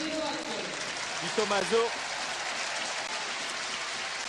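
Football supporters at a stadium match applaud and cheer as a substituted player leaves the pitch, a distant continuous wash of crowd clapping under a commentator's voice.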